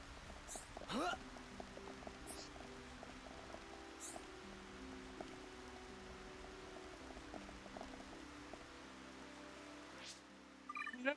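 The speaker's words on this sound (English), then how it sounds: "It's raining again." Steady rain falls in the video game Xenoblade Chronicles, a soft continuous wash beneath game music, with a few brief chimes and sweeping effects and low speech near the end.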